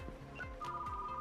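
A telephone rings indoors with a soft repeating electronic tone, fairly quiet and distant, under faint background chatter and room noise.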